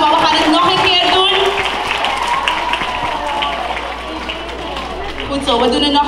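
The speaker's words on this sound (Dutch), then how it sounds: "mag ik een daverend applaus" Audience applauding at a Little Mounds Of Clay farewell event in 2018, a dense steady wash of clapping that fills the whole stretch, with voices and shouts mixed in and a few louder bursts near the end.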